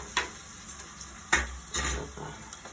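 Hot oil sizzles in a pan as food is stirred, with several sharp scraping strokes breaking through the steady frying crackle, close and without speech.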